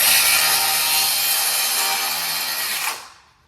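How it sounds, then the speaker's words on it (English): Cordless circular saw spinning at high speed, a loud, bright whine held steady for about three seconds before it cuts off and winds down. "what I have here is my circular saw"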